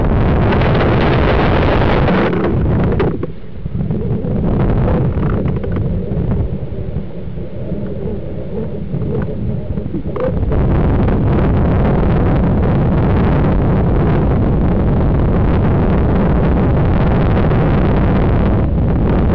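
A water rocket blasting off on its first flight: a loud, sustained roaring whoosh of rushing water and air that dips briefly before surging again and carrying on steadily, close to the microphone and heavy with wind buffeting.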